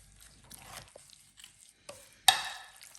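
Coriander, lemon juice and spices for a lamb chop marinade are stirred in a bowl, giving a few soft, scattered scrapes and wet squelches, then one sharper clink near the end, all fairly quiet with no talk.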